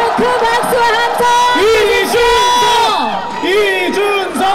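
A campaign rally crowd greets Reform Party presidential candidate Lee Jun-seok with loud, close cheering and rhythmic chanted shouts rising and falling in repeated waves.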